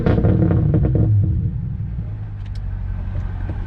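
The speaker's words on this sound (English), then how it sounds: "A V8 with pretty much straight piped exhaust, it sounds phenomenal." 2018 BMW M5 V8 with a near straight-piped exhaust heard from inside the car with the door open, a loud rev that quickly settles into a deep, steady rumbling idle.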